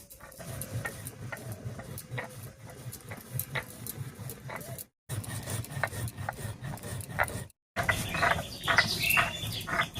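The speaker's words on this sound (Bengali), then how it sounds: "আর এই ফাঁকে আমি ভেজে রাখা মশলাটা গুঁড়ো করে নিচ্ছি" Fried spices are ground into powder in a continuous, rough, grainy rubbing at low volume. Two brief silent pauses break the sound, and it grows harsher after the last one.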